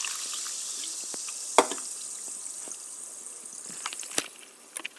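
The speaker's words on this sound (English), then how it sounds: "pouring water into the mug" Water poured from a tap into a mug already holding ice cubes, for an iced pomegranate soda, makes a steady faint trickle with a few small clinks and drips throughout.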